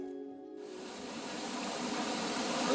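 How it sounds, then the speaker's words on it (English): Rushing water at the Murphy Brook Falls chute in Kenomee Canyon, a steady broadband roar that swells after a quiet start and grows louder and closer over a few seconds. "Well, this is Murphy Brook Falls. It's really always a chute here"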